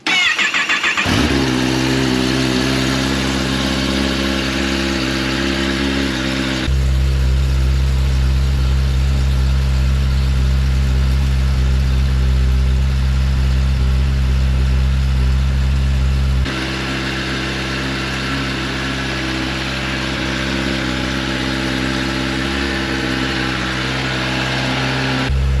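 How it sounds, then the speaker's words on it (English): A 2022 Kawasaki ZX10R sport bike fires up from cold and settles into a loud, steady idle, with a deeper, heavier rumble through the middle stretch before easing back to a smoother idle. "I'll get a cold start in real quick."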